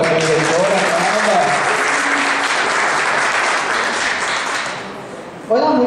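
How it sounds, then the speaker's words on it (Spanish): Audience applause for a school director at a school maintenance event in El Seibo, a dense, sustained clapping crowd that fades near the end as a voice begins speaking. "Un aplauso para su directora."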